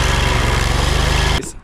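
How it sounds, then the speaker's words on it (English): A chainsaw engine runs close and loud with a steady, buzzing drone, then cuts off abruptly near the end, leaving a brief fading tail. "I can get my chainsaw out and try to..."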